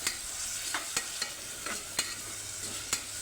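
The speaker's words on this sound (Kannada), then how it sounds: "ಟೊಮ್ಯಾಟೊ ಸ್ವಲ್ಪ ಸಾಫ್ಟ್ ಆಗೋ ತನಕ ಚೆನ್ನಾಗಿ ಫ್ರೈ ಮಾಡ್ಕೋಬೇಕು" Chopped tomato and garlic fry in a pan for a pulao, giving a steady close sizzle broken by a few sharp scrapes and taps of a stirring spoon.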